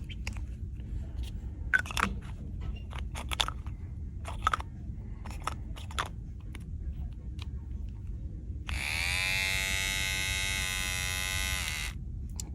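A restored battery-powered nose hair trimmer is handled with scattered clicks and taps, then switches on into a loud, steady buzzing whir for the last few seconds.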